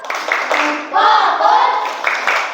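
A classroom of children claps the rhythmic 'tepuk fokus' focus routine, quick hand claps mixed with young voices chanting along, close and fairly loud.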